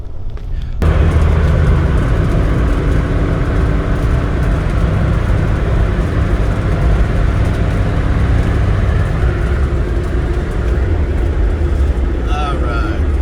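Off-road race trucks in the desert roar steadily and loudly past at close range, a dense continuous engine and tire rumble holding for over twelve seconds after an abrupt start.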